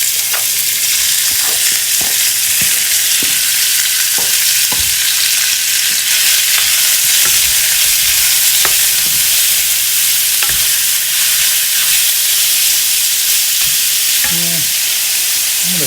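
Pork for asado de puerco sizzles and fries steadily over a hot fire, with a continuous close crackle and occasional sharp clicks and scrapes of stirring throughout, with no talking.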